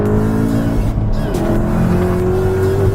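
A 560bhp Volkswagen Golf R with four-wheel drive accelerates hard, its engine note rising loud and close through the gears in a continuous strained roar.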